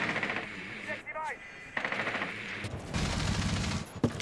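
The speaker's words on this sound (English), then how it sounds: "A lot of gunfights happening right out the gate. I hear a lot of bullets." Gunfire in a Rainbow Six Siege match, with bursts of rapid automatic fire crackling through the game mix, broken by short gaps and a sharp final shot.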